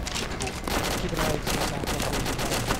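Arma 2 combat gunfire during a convoy engagement, bursts of automatic fire and scattered rifle shots cracking at mid distance in a continuous, busy exchange, with faint voices underneath.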